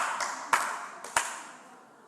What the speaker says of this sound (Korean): 박수 제가 3번 칠게요.